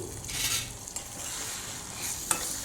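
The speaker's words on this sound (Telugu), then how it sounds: "ఇంకొక పక్క కడాయి పెట్టుకొని నేను బటర్ వేస్తున్నాను బటర్ వేసి చేస్తున్నాను నేను రెండు ఎగ్స్ని మనం బాగా వేయించి తీసేసుకోవాలి" Eggs fry in butter in a kadai with a soft, steady sizzle, joined by light stirring and a brief clink of a utensil.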